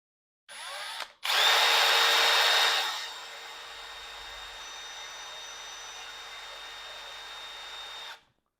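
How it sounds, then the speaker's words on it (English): A handheld power drill bores a hole while someone works on a bonsai, whirring loudly for a couple of seconds after a brief start, then running on at a lower, steady whine before stopping. "Much easier to drill hole."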